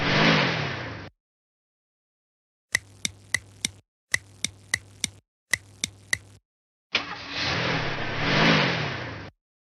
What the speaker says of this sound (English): let's all get into the car, and head on over to Home Run Pizza